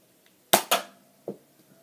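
A Nerf Jolt blaster fires in quick succession: two sharp, close pops about a fifth of a second apart, then a third softer shot, each a short snap over near silence.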